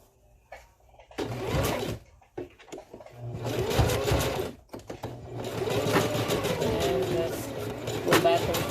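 A sewing machine stitches the end of a weft track on a closure wig, its motor whirring in bursts of rapid mechanical clatter with short pauses between runs, while someone talks over it.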